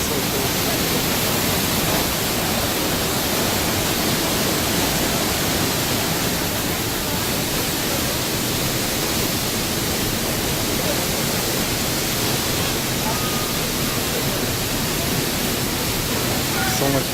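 El Pailon del Diablo waterfall on the Ruta de las Cascadas roars while cyclists pass close by. A dense, unbroken wash of loud noise fills every moment without a pause.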